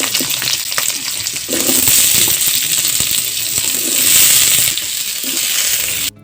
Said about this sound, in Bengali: যখন দেখবেন যে পেঁয়াজ রসুন এমন বাদামি হয়েছে তখন এর মধ্যে আলুগুলো দিয়ে দিতে হবে।